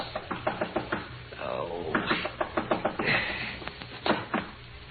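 Repeated firm knocking on a hotel room door in a radio drama, several quick bursts of close raps separated by short pauses, with a sleepy voice murmuring between them.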